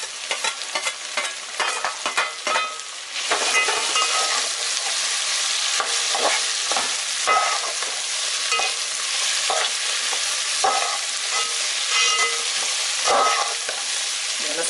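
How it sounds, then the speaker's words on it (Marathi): Shredded cabbage stir-fried in a hot pan with other vegetables for homemade street-style veg chowmein, a steady loud sizzle with repeated scraping stirs throughout, no talking. "लास्टला आपण कोबी टाकून घेणार आहे."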